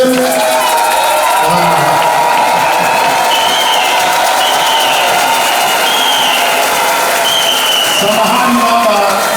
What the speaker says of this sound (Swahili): wakati tunashangilia kwa vigelegele